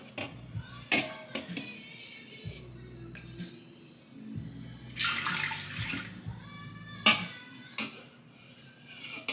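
Kitchen tap water runs in bursts into a pot for cooking, quiet splashing broken by sharp knocks and clatters of cookware.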